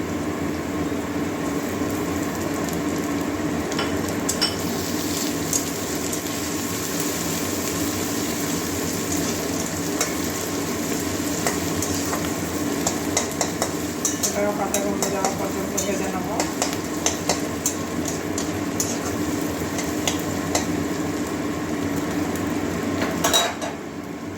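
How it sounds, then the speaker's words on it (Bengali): Garlic paste with green chilli frying in a pan, a continuous sizzle mixed with the scrape and clink of a spatula stirring against metal, close and fairly loud, with a few sharper knocks near the end. "এবারে আবার রসুনের পেস্টটা দিয়ে দিচ্ছি"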